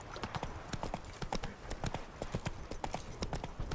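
Hooves of Roach, a horse in The Witcher 3: Blood and Wine, clip-clop in a steady, rapid rhythm, close and fairly quiet, with no talking over them.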